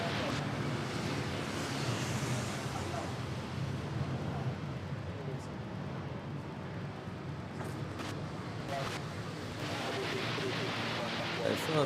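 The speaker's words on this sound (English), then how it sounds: "I felt the wind coming from my left" Wind buffets the microphone at Manila airport, a loud, continuous, roaring rumble with gusty swells throughout, and the wind coming from the west.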